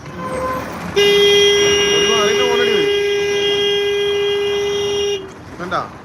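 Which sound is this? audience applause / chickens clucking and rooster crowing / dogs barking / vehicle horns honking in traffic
vehicle horns honking in traffic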